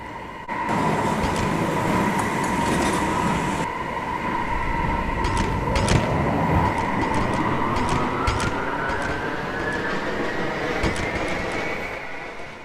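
A Roblox NYCT simulator D local subway train in a video game rumbles steadily with a rising motor whine as it pulls away, and door chimes and clicks appear near the start, with no talking.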